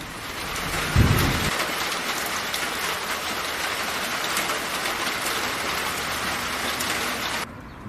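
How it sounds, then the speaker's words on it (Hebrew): Heavy rain falls on a cold, dark evening, a loud, unbroken roar of downpour with a deep thunder-like thump near the start, steady throughout before cutting off abruptly at the end. "גשם כבד ירד"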